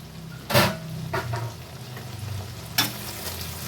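Tomato and garlic frying in a pan, a soft steady sizzle broken by a few sharp clatters of a spatula stirring, fairly quiet and close with no talking.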